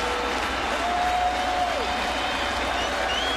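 A sellout crowd fills a baseball stadium and applauds a Yankees win over the Blue Jays, a steady wash of clapping and cheering heard through a broadcast with no break.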